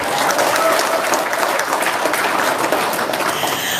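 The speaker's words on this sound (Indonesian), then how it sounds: "Tepuk tangan dulu dong." Dense audience applause at a seminar-style gathering, a steady wash of many hands clapping at once, loud and sustained throughout with no break.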